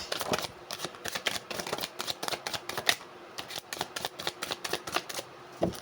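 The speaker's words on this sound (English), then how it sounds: "One more shuffle through." A deck of tarot cards is shuffled close by, giving a steady run of crisp riffling flutters and card snaps that continue throughout with no talking.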